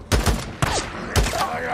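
Bursts of rapid gunfire in the PS4 action game Days Gone, three loud volleys of shots spaced about half a second apart, with voices calling out and game sounds between them.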